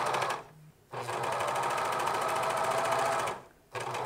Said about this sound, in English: Serge on the waistband.